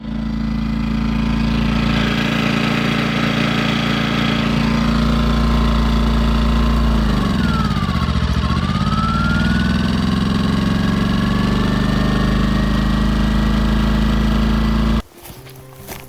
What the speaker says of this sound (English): the generator goes from quiet to loud to quiet to loud